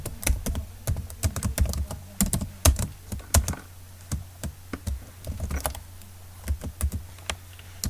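Rapid keystrokes on a computer keyboard while entering text into an Excel spreadsheet, close and clear, in irregular bursts with brief pauses, no talking.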